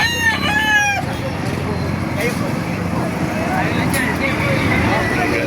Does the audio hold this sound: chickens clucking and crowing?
yes